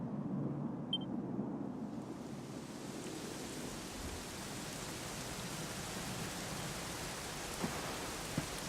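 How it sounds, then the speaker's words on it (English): Steady rain hisses and patters in the video game Dragon Quest XI, a dense wash of noise that thickens after the first couple of seconds, with no voices. "it was raining like this"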